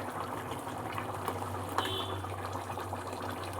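A rohu fish curry with potatoes bubbles in a pan, a steady low boiling rumble with soft liquid gurgles and a couple of faint clicks, close by and with no voices.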